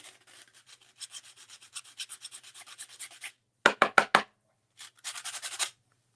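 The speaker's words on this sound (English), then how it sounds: "I do like to at least just use the sandpaper." Sandpaper rubbed over a small wooden door hanger, quick rhythmic scratchy strokes close up, first in a steady run, then a few louder bursts after a short gap, with no voices.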